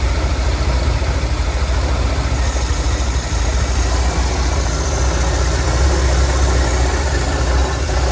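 A Corsa car engine idles steadily during carburettor balancing, a loud, close, continuous rumble with a faint high whine above it, no talk.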